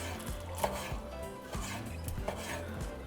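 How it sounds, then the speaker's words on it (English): A knife cuts cooked taco meat into strips against the grain on a board, with several distinct, irregular chops close by over a low kitchen background. "So I'm just going to go against the grain. Okay, so I'm just going to cut into strips."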